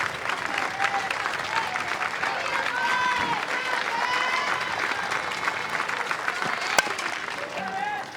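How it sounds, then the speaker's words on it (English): Texas softball fans in a stadium clap and cheer with two strikes and two outs as the game nears its end, a sustained crowd roar with clapping, while a voice speaks over it. "the Texas fans, the 2 strike, 2 out clap to end the game"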